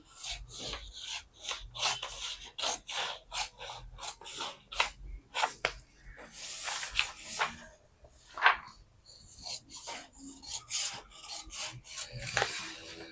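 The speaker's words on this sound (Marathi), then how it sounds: "ते सॉरी मापे टाकलेले आहेत ते कटिंग करून घेणार आहोत पहिल्यांदा क्रॉस पट्टी काढून घ्यायची" Scissors cutting blouse fabric along chalked measurements, an irregular series of crisp snips and rasping strokes, close and clear, with short gaps between cuts.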